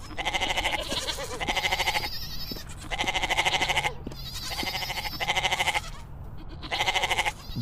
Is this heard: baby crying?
no